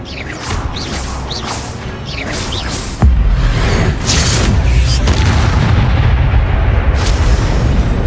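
Magical spell combat in the Hogwarts Legacy game on PS5, with whooshing casts, deep booming impacts and crashing bursts layered over a continuous rumbling battle backdrop.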